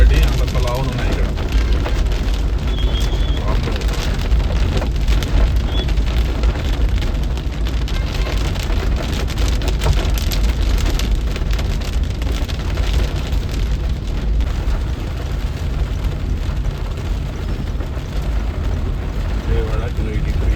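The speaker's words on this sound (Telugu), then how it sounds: "సౌండ్ ఏదో వడగల్ల వాన రేంజ్లో పడుతుంది సౌండ్" Heavy rain pounding down in Nellore like a hailstorm, a dense constant roar of drops drumming on a hard surface, loud and unbroken throughout, with a voice talking over it.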